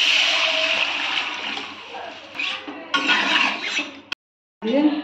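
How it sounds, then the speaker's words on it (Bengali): Water is poured into a cooking pot in a home kitchen, a steady splashing gush that runs for several seconds, breaks off briefly and resumes, with faint background noise. "জল ঢেলে দিচ্ছি"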